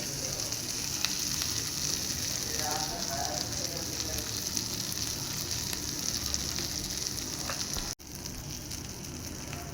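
Chilapi fish frying in a pan, a crisp, steady sizzle that holds loud and even throughout with a brief dropout near the end, no voices.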